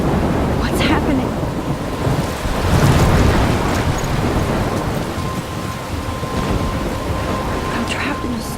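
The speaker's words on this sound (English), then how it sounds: "I'm trapped in a storm?" Heavy rain pours with rolling thunder in a Life Is Strange storm, a loud dense roar swelling around the middle with crackling gusts, and a voice speaks briefly over it.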